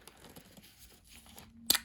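Scissors cutting open a small package of pink craft material, faint crinkling and rustling followed by one sharp snip near the end.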